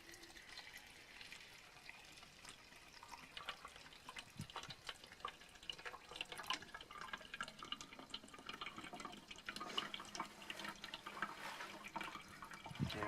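Water trickles and drips steadily through a homemade sand and charcoal filter, quiet and close, with irregular splashing droplets.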